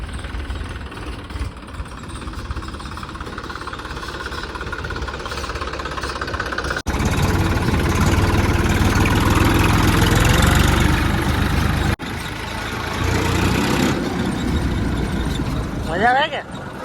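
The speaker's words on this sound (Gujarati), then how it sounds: "કેવો અવાજ આવે ને જાણે 4 વ્હીલ પેલા સ્ટાર્ટ થાય ને એ રીતે સ્ટાર્ટ થાય" A tractor engine cranks and settles into a steady idle, running continuously throughout with people talking over it.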